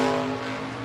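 A Mustang drag car launches at a drag strip with a loud, sustained, tonal engine roar close by, alone and with no voices over it.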